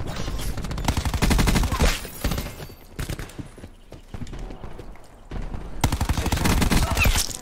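Rapid gunfire and a cluster grenade's string of explosions fill a Black Ops 4 match, with dense bursts of firing and blasts, a brief lull in the middle, then heavy shooting again.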